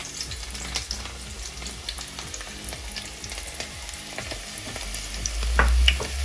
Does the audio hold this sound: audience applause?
no